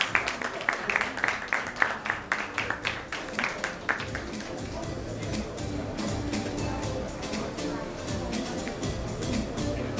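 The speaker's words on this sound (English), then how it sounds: "May we please have a round of applause for our speakers" A conference ballroom audience at GCA 2025 Mumbai applauds the session speakers: a few distinct claps open, then swell into a steady crowd clapping, with voices talking underneath.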